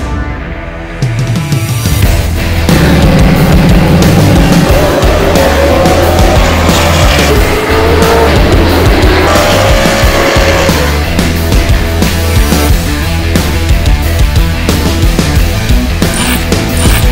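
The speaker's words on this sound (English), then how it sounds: "Live short track racing." Stock cars race around a short oval bullring track, engines roaring loud and continuous with pitch shifting as cars pass and tires squeal.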